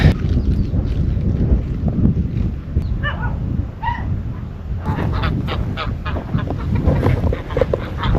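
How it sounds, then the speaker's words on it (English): Caged ducks and geese honk and quack outdoors near a windmill, a dense, continuous racket of overlapping bird calls at close range with no talk. "There's a bunch of ducks and goose in a cage over there."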